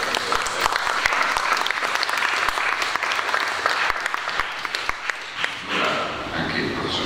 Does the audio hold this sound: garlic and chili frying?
no